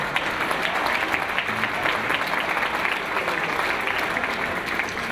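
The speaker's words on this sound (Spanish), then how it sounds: "Un aplauso, por favor." Steady applause from an audience at a danzón dance hall gathering, dense and continuous clapping filling the room for the whole stretch without letting up.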